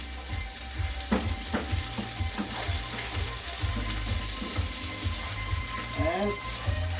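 Steak frying in a hot pan, a constant close sizzle with intermittent spatters, accompanied by a low background hum and a brief voice or squeak near the end.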